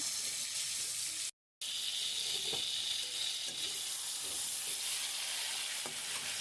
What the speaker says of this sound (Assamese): ৰঙচুৱা হোৱালৈকে ভাজি ল'ম।